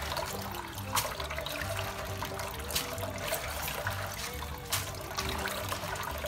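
Washed dried chillies left to drain, with water trickling and dribbling off them steadily and continuously at close range, with a few brief louder splashes and no talk.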